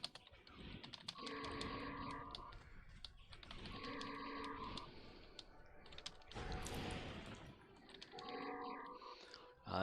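Soft, muted keystrokes on a curved-key comfort computer keyboard tap out in steady bursts with short pauses, over a background of sustained tones and a faint voice.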